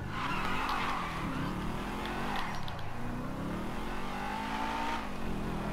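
Audi TT sports car engine accelerating in Grand Theft Auto V, a steady mid-loud revving drone with brief tyre squeal, game music and effects layered underneath throughout.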